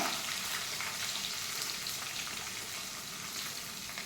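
A handful of small shallots fry in a pan with dried chillies, giving a continuous, even sizzle at moderate level with no voices.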